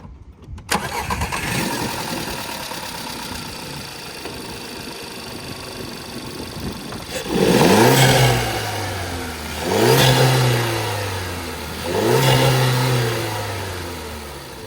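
A car engine fitted with a recirculation valve mod cranks and catches around the halfway mark, then revs three times in quick succession, each rise and fall of the engine note loud and close, with idling between the blips.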